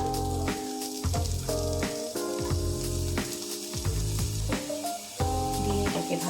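Butter and sliced onion sizzle steadily in a pan, a continuous close frying hiss heard beneath a prominent steady tonal background.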